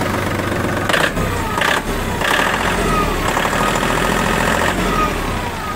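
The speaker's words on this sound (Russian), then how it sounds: "Двигатель работает ровно." A tractor engine with 311 operating hours idles evenly outdoors before snow clearing with a grader blade, a loud, steady low rumble close by with a few brief shifts in tone and no talk.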